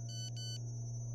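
A loud electronic phone ring in the horror game Cry of Fear sounds in two quick bursts, then a third begins, over a steady low hum.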